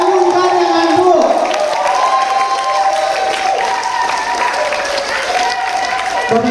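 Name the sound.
loud audience applause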